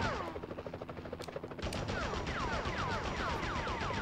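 Rapid gunfire in a Spider-Man video game, bursts of shots crackling in quick repeated volleys that grow denser and louder partway through, with busy game sound around them.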